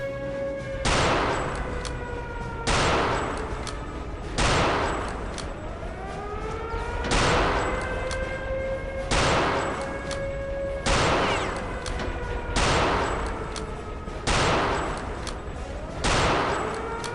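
Gunfire in the video game Return to Castle Wolfenstein: loud, heavy blasts repeat about every one to two seconds over a sustained droning, siren-like tone, dense and close throughout.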